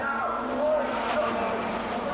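Touring cars from the 1993 British Touring Car Championship race past into a corner, a blended engine roar with a brief tyre squeal, heard under a commentator talking.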